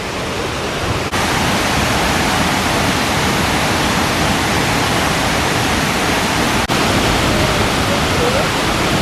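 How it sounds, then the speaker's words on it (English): Kuang Si waterfall near Luang Prabang roars as a loud, steady broadband rush of falling water, close and continuous with no break throughout. "This is meant to be one of the best waterfalls in Southeast Asia."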